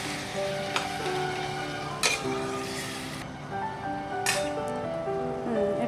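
Banana flower sautéing in a pan while chingri is cooked, with a steady loud sizzle and a few clinks of a utensil against the pan.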